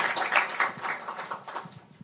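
Brief, moderately loud applause from an audience welcoming a panel of experts at a discussion event, a steady patter of clapping that fades toward the end.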